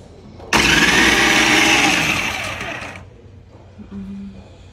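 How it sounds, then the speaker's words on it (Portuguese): Electric grater machine with a blade fitted, running loud and close in a shop for about two and a half seconds with a high whirring motor that winds down, followed by faint low chatter. "Agora a gente vai ralar pra vocês verem que é outro corte."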